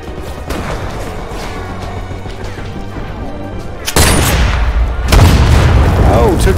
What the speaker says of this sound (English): that was an explosive